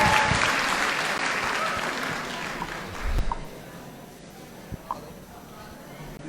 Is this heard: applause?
yes